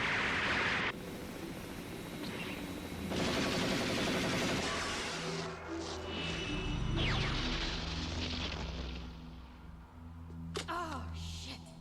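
Gunfire from the 1995 anime film Ghost in the Shell, loud broadband bursts and crashes over a steady film soundtrack rumble, with a voice talking briefly near the end.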